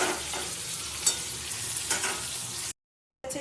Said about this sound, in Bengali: একটু লাল লাল করে ভেজে নিতে হবে উচ্ছেটা